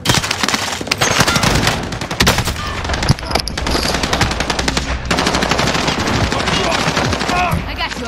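Rapid automatic gunfire from a multiplayer shooter video game, dense loud bursts sustained through most of the stretch with brief gaps, and voices talking underneath.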